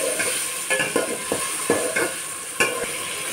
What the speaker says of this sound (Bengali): মশলাটাকে ঢেলে দেব। সজনা আর আলুটাকে ঢেলে দেব।